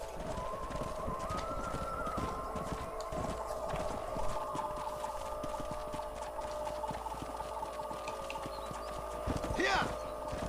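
Horses trot with a steady rapid clip-clop of hooves in the Red Dead Redemption video game, a continuous near rhythm over a droning background, with a whinny near the end.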